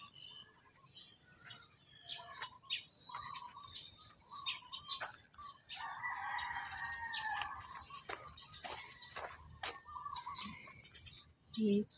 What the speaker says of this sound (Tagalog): Ay, yung manok. Hello, manok.